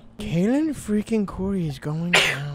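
Someone talks, then a brief, sharp sneeze bursts out near the end of her speech, in a Roblox game voice chat.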